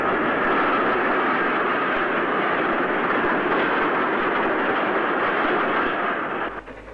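Steam-era 8F locomotive with a fire tender hauling a civil engineers train south toward Hatton, a loud sustained rumbling roar of passing wagons that fades slightly at the end.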